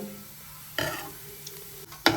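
Curry is stirred in a cooking pot in a home kitchen: two short scraping strokes break a low simmering background, the second one louder and close by.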